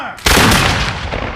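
Ceremonial rifle volley fired as a Veterans Day salute: one loud, sharp blast from several rifles firing together, with a long rumbling echo trailing off outdoors.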